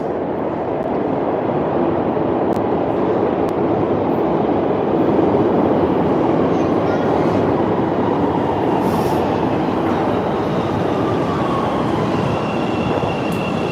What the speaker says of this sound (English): here comes the train. It's gonna get really loud.